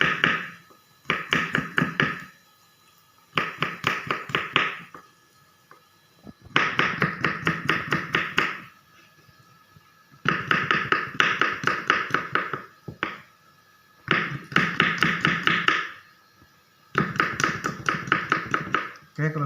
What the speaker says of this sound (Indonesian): Kemirinya kita potong seperti ini.